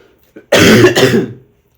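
A single harsh cough from a boy, close and loud, preceded by a short catch of breath, then quiet.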